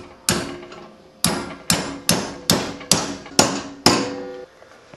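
Metal being hammered to bend it 90 degrees for a DIY ring flash, seven sharp ringing blows in a steady rhythm, close and loud, each ringing off briefly.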